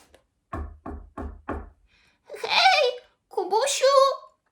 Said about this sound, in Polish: Zapukał trzy razy.